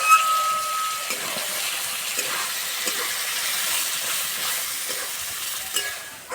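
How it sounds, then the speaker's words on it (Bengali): Tomato paste frying in hot oil with whole mustard seeds and chili, a loud dense hiss of sizzling that runs steadily through, with a few soft clinks and no talk. "গোটা সর্ষে, এবার টমেটো বাটাটা দিয়ে দেবো।"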